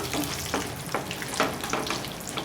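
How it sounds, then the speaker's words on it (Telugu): Peanuts and cumin seeds fry in a pan of oil while a ladle stirs them, giving a steady close sizzle broken by repeated rhythmic scrapes, with no one talking. "వేసుకొని గంటితో ఇలా తిప్పుకుంటూ ఫ్రై చేసుకోవాలి."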